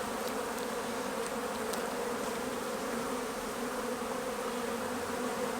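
Honeybees buzz in a steady, dense drone inside an open beehive during an inspection, close and continuous with no pauses, and no talk over it.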